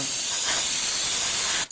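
Throttle body cleaner blasts from an aerosol can into an engine's throttle body as a single continuous, close hiss lasting under two seconds before cutting off sharply.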